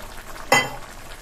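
Poppy seed paste with a little added water cooks in a pan, giving one short sizzling, scraping burst from a stir amid a quiet kitchen hush.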